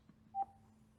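A single short electronic intercom connection tone from a Cardo PACKTALK Slim motorcycle headset beeps once, faint and clean, against a quiet low hum.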